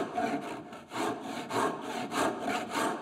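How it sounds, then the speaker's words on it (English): A tenon saw cutting through wood while making a joiner's mallet, with about six even back-and-forth strokes, each a close, rasping pulse. "So you could just use your tenon saw like this."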